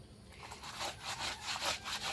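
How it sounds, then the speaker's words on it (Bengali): Clothes are scrubbed by hand with Nirma detergent, giving a steady rhythmic rubbing, roughly five or six strokes, close and moderately loud with no talking. "কতগুলো করে নির্মা দিয়ে তারপর এগুলো মানে ঘষে ঘষে ঘষে ঘষে ধুচ্ছে"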